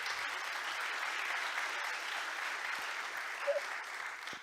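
Audience at a retail business event claps in a dense, continuous round of applause that holds steady for several seconds, then thins slightly toward the end.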